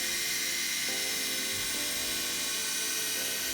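A skate sharpener grinds a blade, producing a continuous high-pitched whine with tonal steps as speed and pressure change, steady and close with no talking.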